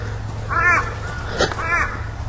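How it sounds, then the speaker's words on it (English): Crows cawing outdoors near a horse riding session, two clear harsh caws about a second apart, moderately loud over a low steady hum, with no talking. "A few crows here today, isn't there?"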